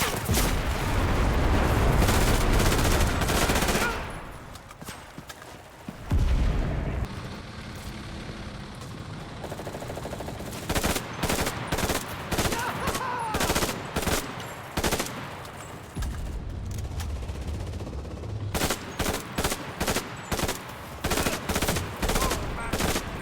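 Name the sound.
Beretta M1918 submachine gun firing in video game Enlisted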